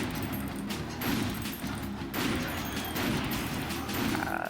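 Gunfire in the video game Painkiller Redemption at a refinery, dense bursts of heavy repeated shots with crashing impacts that pile into a loud, nearly continuous barrage with brief dips.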